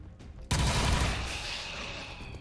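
A sudden burst of loud gunfire from the XCOM 2 video game erupts after a brief quiet lead-in, a dense volley that rings on and slowly tails off without fading out.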